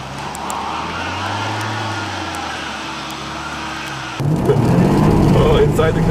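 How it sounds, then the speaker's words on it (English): Supercharged V6 Jaguar XF or XJ with all-wheel drive doing a burnout on ice: a steady engine drone that abruptly swells into a loud, rough roar with spinning wheels partway through, heard from close by. "An icy Jaguar burnout."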